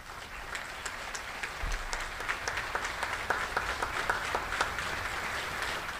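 Applause from a crowd at a U.S. Army change of command ceremony, many hands clapping at a moderate distance, steady and continuous with scattered sharper claps.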